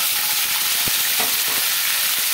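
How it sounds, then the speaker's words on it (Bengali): Chopped vegetables, including green chilli, frying in a pan over a medium-to-high flame, giving a steady close sizzle with a few soft stirring clicks and no voices. "আর মিডিয়াম টু হাই ফ্লেমে রেখে এগুলোকে একটু ভাজা ভাজা করে নেব। এইভাবে ভাজতে থাকবো।"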